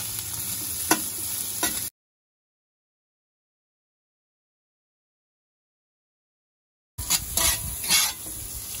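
Vegetables fry in butter and olive oil on a charcoal Weber kettle hibachi grill, a close sizzle with spatula scrapes that cuts out to silence for several seconds before the sizzle returns.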